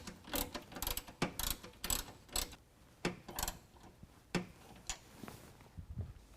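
A ratchet snugs up a 13mm bolt while installing an AMP Research power step on a 2020 Ram 2500, giving bursts of close mechanical clicking in quick repeated runs, with short pauses between strokes.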